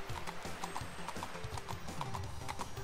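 A horse clip-clops along at a steady gait in The LEGO Movie 2 Videogame's Old West, the hoofbeats rhythmic and continuous over game music and ambience.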